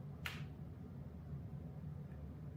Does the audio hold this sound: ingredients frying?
no